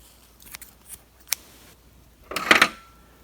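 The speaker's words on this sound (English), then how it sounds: "So I cut the yarn" Scissors snip through knitting yarn for a man's sweater, a few soft clicks and rustles followed by a louder, sharper burst of cutting close by, with no talking.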